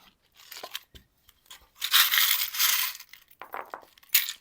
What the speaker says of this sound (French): on va tirer les breloques